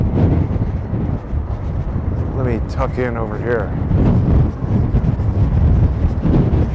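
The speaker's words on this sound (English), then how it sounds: "It's really like a windstorm." Strong wind buffets the microphone in a constant low roar outdoors in New York City, while a person speaks briefly partway through.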